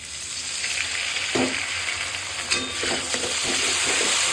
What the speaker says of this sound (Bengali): সমস্ত কিছু এবার নাড়বো।